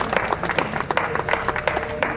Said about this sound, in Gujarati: એક વખત જોરદારની તાળી વધાવી આપણે.